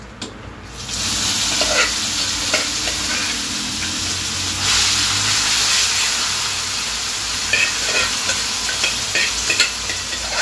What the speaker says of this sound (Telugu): నెక్స్ట్ మనం ముందుగా సిద్ధం చేసుకున్నాం కదండి కర్రీ, దీన్ని తాలింపు వేసుకుందామండి అందులో